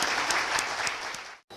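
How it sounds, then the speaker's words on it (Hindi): An audience claps loudly to welcome a speaker at a business opportunity meeting. The dense, even applause runs for over a second, then breaks off suddenly and briefly returns. "मिस्टर के एम रफीक जी को जोरदार तालियों से स्वागत कीजिए।"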